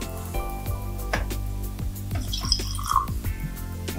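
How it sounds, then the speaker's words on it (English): Remy Martin V brandy poured into a cognac glass, a run of close liquid drips and trickles with a few brighter splashes, with music or a steady background tone underneath. "Look at you pouring for me."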